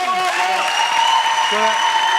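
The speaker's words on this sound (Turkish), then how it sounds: "Havva ablam için lütfen çok büyük bir alkış." A studio audience on a lively Turkish show applauds steadily throughout, with the clapping running under a speaking voice and some tonal background sound.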